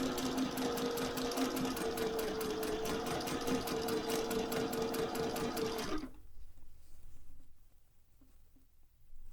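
A Singer 401A sewing machine stitches in a steady, fast mechanical hum-and-clatter, close and loud, then stops abruptly, leaving a few faint taps and near silence.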